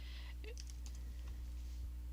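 Quick burst of typing on a computer keyboard while entering an Excel formula, a handful of soft close key clicks over a steady hum.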